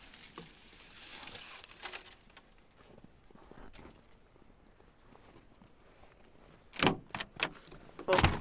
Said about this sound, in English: Oh, the door's frozen.